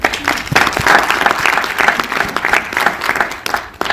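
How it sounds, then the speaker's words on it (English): A conference audience at Yale applauds its guests with loud, dense, continuous clapping that swells and holds steady for a few seconds. "Please give them a round of applause"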